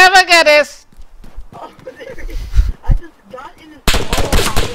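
Gunfire in the Arma game mode Altis Life, a few sharp shots cracking between excited voices, fairly loud and close, with a dense burst near the end.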